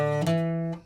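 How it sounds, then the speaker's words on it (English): Piano plays a short hammer-on riff from a song, a clear sustained chord that shifts to a new note partway through and then rings out and fades. "This is the little hammer-on riff that sounds like this."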